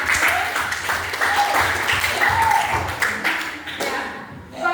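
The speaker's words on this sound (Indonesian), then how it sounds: "Tepuk tangan untuk kelompok 1." A classroom of students claps for a student group in a short burst of close, uneven hand clapping with scattered taps and thumps, fading out near the end.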